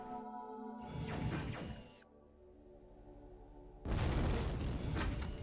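Missile bombing in the video game Fragile Allegiance: a rumbling blast swells and cuts off, then after a quieter mechanical lull a second, louder explosion roars on with crackling debris; fairly faint overall.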